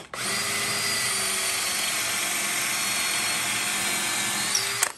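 A power drill whines at a loud, steady pitch for about five seconds, then spins down abruptly.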